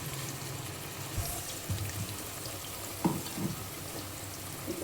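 Ground onion and tomato paste goes into a frying pan, giving a soft, steady sizzle with a few brief clatters and scrapes, faint and close, with no talking.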